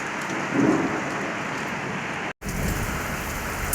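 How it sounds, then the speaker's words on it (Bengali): Heavy rain pours steadily at night around ten o'clock during a storm, a dense continuous hiss of rain on surfaces with a brief dropout partway through; thunder is not clearly distinct. "দেখুন কত কত কত জোরে বৃষ্টি হচ্ছে"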